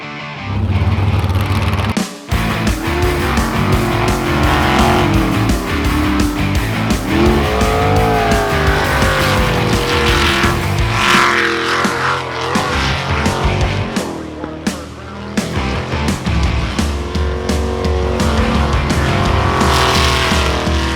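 Race cars roar loudly and continuously, engines revving up and down, with occasional tire squeals.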